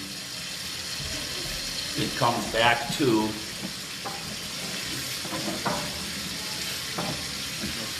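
Steady rushing water flowing through a drain pipe, broadband and continuous, with a voice speaking briefly over it partway through.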